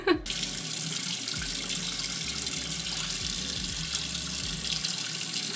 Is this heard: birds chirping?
no